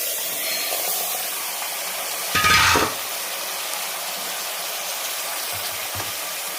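Marinated mutton sautéing in a hot pan gives a steady close sizzle, with one louder burst of hissing and stirring midway and a brief knock near the end.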